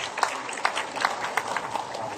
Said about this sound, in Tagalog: can we give Anne a big round of applause?